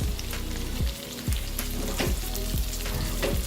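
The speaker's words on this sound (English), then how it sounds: "I'm now going to turn the tofu pieces onto the other side to fry. Let them fry on their flip sides now." Tofu pieces frying on their flipped sides in a pan, a loud dense crackling sizzle close by with periodic swelling pulses, no voices.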